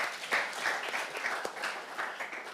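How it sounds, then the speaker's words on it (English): Brief, moderately soft audience clapping for a leader at an academic partnership forum, a short burst of overlapping claps. "We can clap for him again."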